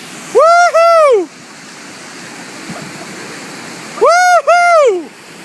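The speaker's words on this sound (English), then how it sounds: "That was Aaron's first waterfall." A kayaker drops over a waterfall with no spray skirt in a Necky touring boat with skegs rather than a whitewater boat. Steady rushing water roars throughout, broken by two loud bursts of excited whooping voices.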